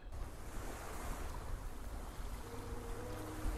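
Ocean waves washing onto a beach in Garten of BanBan 3, a continuous broad surf rush, moderately loud and steady, with a faint tonal hum entering near the end.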